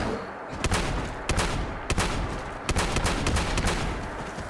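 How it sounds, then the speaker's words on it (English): Gunfire at a bear on a golf course in Fallout 76: five or six loud, sharp shots spaced unevenly over a steady background hum, with no talking. "I have to shoot you for my dailies."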